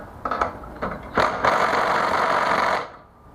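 Harbor Freight impact wrench hammering at a 12mm head bolt on a Predator 212 engine, a few short bursts followed by one sustained loud rattling run of about a second and a half before cutting off.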